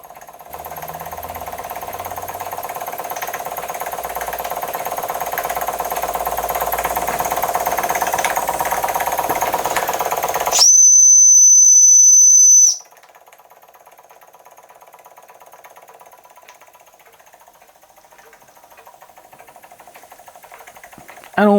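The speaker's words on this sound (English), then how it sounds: "What a lovely engine." A Jensen 25 model steam engine runs with a steady, rapid mechanical chatter and hiss. Midway, a short, shrill whistle blast replaces it, and a much quieter, even hum continues afterward.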